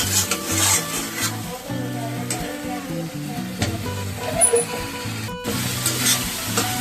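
Spice masala for a brinjal curry fried and stirred in a pan over low heat, giving a loud continuous sizzle with rhythmic scraping strokes of a spatula and a brief pause near the end.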